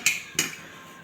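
A spoon, bowl and plate are set down in a home kitchen, giving two sharp clinks close by, the second a moment after the first, then a quiet tail.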